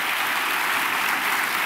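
A church congregation applauds during a worship service, a loud, dense, continuous wash of clapping with no other sound breaking through.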